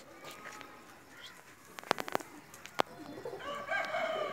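Golden cross racing pigeon landing after a long flight, with a few sharp wing claps and flutters in the middle, soft cooing and bird calls around it, and quiet background noise.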